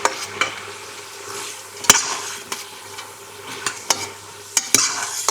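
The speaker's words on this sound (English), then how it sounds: "The red cabbage, here it is, the red cabbage going in there. You got that? We definitely need a good stir." Red cabbage is stirred in a frying pot, a soft sizzle running underneath as a spoon scrapes and knocks against the pot in irregular strokes, close and moderately loud.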